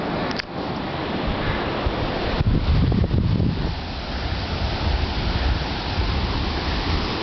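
Water rushes steadily over the Shores Lake Dam waterfall in Arkansas, a loud continuous roar heard close by with no one speaking.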